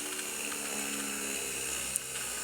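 A small benchtop mini drill press runs at about 18 watts, boring a very fine hole: a steady, high-pitched motor whine with a faint grinding edge, close and continuous, with one brief sharp tick near the end.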